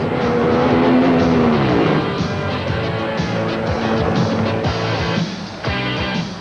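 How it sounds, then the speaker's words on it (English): Don Garlits' new drag racing car blazes its tires off the starting line at the 1987 NHRA Quaker State Northstar Nationals, a loud roaring engine drone with shifting pitch that fades as the car pulls away. "About 100 feet out, the new car blazed the tires"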